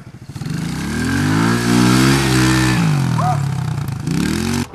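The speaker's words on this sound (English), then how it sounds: "He dumped the moped." A moped engine revs hard through mud, its buzzing pitch rising and falling steadily for several seconds with a brief clatter near the end, loud and close.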